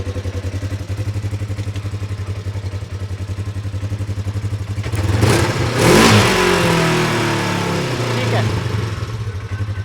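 A Polaris off-road race vehicle idles with a loud, rhythmic engine pulse, then revs up sharply midway under throttle before settling back, with a voice talking over the engine.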